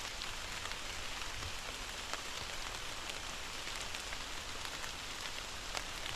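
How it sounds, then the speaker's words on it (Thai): Rain falling steadily on a surface in a forest camp, a dense even patter with scattered louder drops, continuous throughout. "ให้ฝนเซาตกก่อน"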